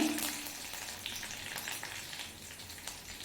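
Shallots browned in tempering oil with freshly added curry leaves for Nagercoil-style aviyal produce a soft, fairly quiet sizzle with light crackles and gentle stirring.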